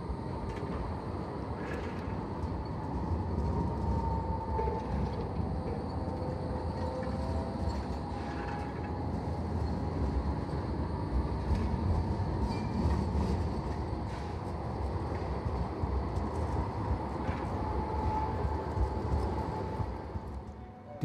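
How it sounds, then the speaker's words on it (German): Trams run along Große Ulrichstraße, a pedestrian shopping street in Halle (Saale), giving a long, steady rolling rumble with occasional light clanks and no voices nearby. "Mehrere Straßenbahnlinien fahren durch die große Ulrichstraße"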